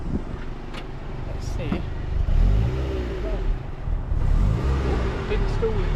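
A Mazda MX5 with a newly fitted differential pulls away on the road, its engine rumbling low and rising with revs, close inside the cabin, while someone speaks briefly.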